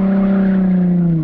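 A drift car with a locked differential spins a 180 on a street, its engine held at high revs in a loud, steady drone with tire skid noise mixed in, no voices.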